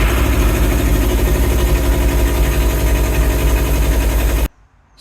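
Suzuki Katana motorcycle engine with cylinders one and two not firing, turning over in a loud, steady rough chug close by, then cutting off abruptly near the end.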